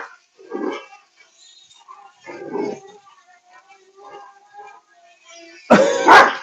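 A dog barks at a flying drone, giving a few separated yelps and whines followed by a loud, harsh bark close to the microphone, with faint background sounds between.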